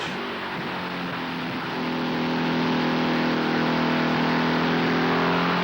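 Winged sprint cars roar around Columbus Motor Speedway during a race, a loud sustained engine drone that swells as the cars accelerate through the turns, steady and close with no talk over it.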